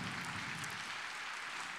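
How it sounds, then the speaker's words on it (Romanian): An audience at a traditional Romanian carol concert claps steadily, a dense, even patter of applause filling the hall with no voices over it. "Mulțumim pentru aplauze!"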